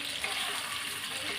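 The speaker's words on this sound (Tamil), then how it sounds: "இப்போ இந்த மீனை நான் வந்து சிம்மில் வச்சு தான் வேக விடுறேன், வறுக்கிறேன்." Fish frying gently on a low flame in a pan on a small stove gives a soft, even sizzle with a faint watery hiss, heard close and steady throughout.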